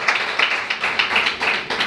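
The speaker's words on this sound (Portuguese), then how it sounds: "Aplauda ao Senhor com o seu melhor." A church congregation claps for the Lord during a service, a short burst of scattered rhythmic hand claps at moderate, somewhat distant level.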